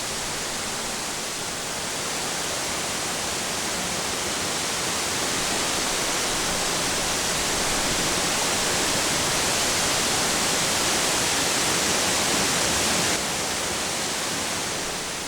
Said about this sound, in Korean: 제인 폭포는 높이가 18m로 주상절리 지형이 나타나는 폭포다.